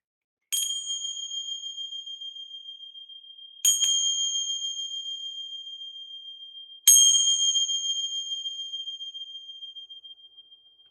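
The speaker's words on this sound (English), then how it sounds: "Gonna ring some bells here. They may be a little loud." Three separate bell strikes, evenly spaced, each a bright metallic ding that rings out and slowly fades before the next.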